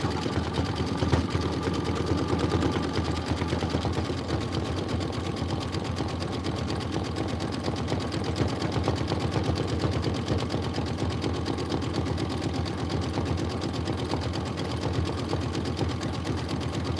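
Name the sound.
embroidery machine stitching a satin outline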